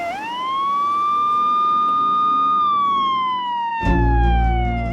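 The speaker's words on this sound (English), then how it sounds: "the sound of sirens is hardly noticed by anyone" A loud, nearby wailing police siren in Dallas holds a long rising tone, then slides down as a heavy low rumble of city traffic surges in.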